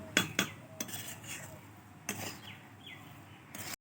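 Spices mixed into rui fish pickle in a pot: a few sharp clinks of a spoon against the metal, then softer scraping and stirring, close and fairly quiet.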